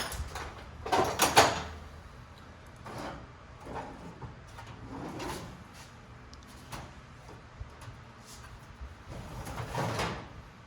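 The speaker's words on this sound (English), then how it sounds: "that will pull your drawer out" A Kobalt metal toolbox drawer slides and rattles out with a few clunks, followed by scattered light knocks and shuffling handling noises nearby.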